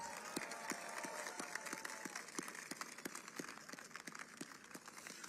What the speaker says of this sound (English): deserve the biggest round of applause